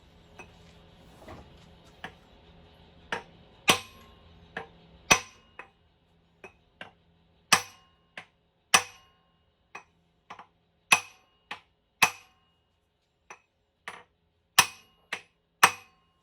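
Sharp, ringing metal strikes hammer away at rusted parts on a Mopar big block engine, arriving as irregular single blows and short clusters, fairly close and clear with no talk.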